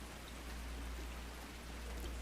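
Gentle rain falling outside a window, a steady soft hiss and patter over a low constant hum, even and unbroken throughout.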